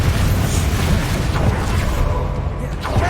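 Confringo spell explosions in Hogwarts Legacy, a dense rumbling blast with booming low end that holds steady throughout, loud and close, with game voices mixed underneath.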